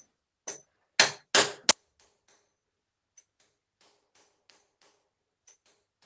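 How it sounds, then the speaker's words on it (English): Four sharp metallic hammer blows compress a metal collet on a doming block, landing close together, then a few faint taps and ticks follow in an otherwise quiet room. "So I'm going to hammer it down,"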